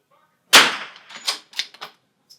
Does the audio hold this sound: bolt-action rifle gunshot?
yes